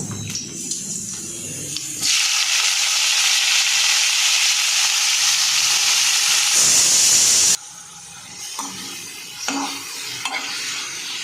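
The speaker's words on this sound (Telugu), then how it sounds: "మనం ముందుగా చిన్నగా కట్ చేసుకున్న పాలకూర తాలింపులో వేయించుకోవాలి" Chopped spinach hitting hot ghee in a tempering pan, a sudden loud, broad sizzle that holds steadily for several seconds with stirring, then cuts off abruptly, leaving quieter scrapes and light clinks.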